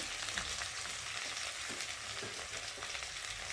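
Spinach and shrimp curry with spices frying in a pan, a steady close sizzle and crackle with faint stirring, no voices.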